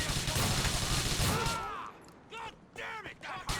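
Rapid gunfire bursts in the GTA 4 video game, loud and dense for the first second and a half, then sparser shots while voices talk over the action.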